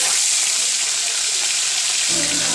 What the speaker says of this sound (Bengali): মাছগুলো ভাজা করে নেব